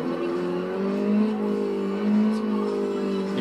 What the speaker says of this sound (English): I like the turbos in both of them, when you can hear it just going whistling.